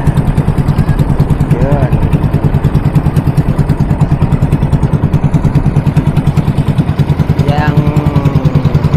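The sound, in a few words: boat motor engine running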